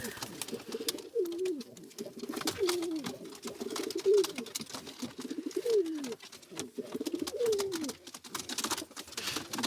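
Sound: pigeons cooing

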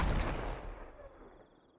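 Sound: fireworks exploding in video game Fireworks Mania

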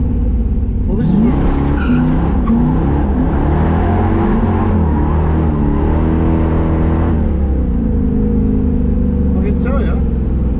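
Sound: LS-powered 1949 single spinner car driving, tires skidding

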